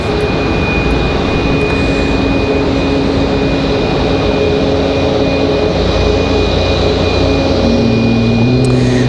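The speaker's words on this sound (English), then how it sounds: "It's going to be American Airlines 1904 coming in from Charlotte." American Airlines A321-200 jetliner landing at Raleigh-Durham airport, a loud steady engine roar that holds throughout with a faint high whine, near and alone without talk.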